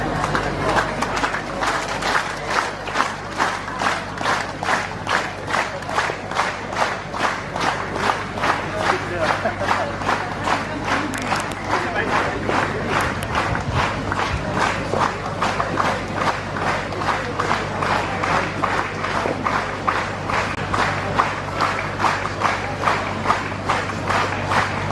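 A large youth convention crowd claps and cheers as the chief guest comes on stage, dense rapid clapping sustained throughout with a murmur of voices and shouts underneath.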